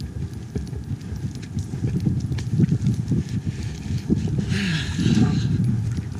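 Hooves clip-clop steadily on the trail as Luke the horse is ridden downhill, a close, uneven rhythm of thuds with some rustling and a brief louder patch near the end.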